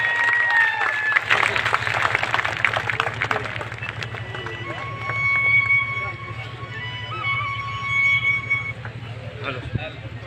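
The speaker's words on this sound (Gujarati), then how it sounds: "જોરદાર તાળીઓથી વધાવી લો." Loud applause from a crowd welcoming a speaker at a Kshatriya protest gathering in Gujarat, sustained and dense for the full stretch with a few whistles and cheers riding over the clapping.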